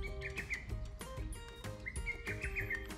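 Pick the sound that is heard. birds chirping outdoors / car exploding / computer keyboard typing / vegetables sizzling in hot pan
birds chirping outdoors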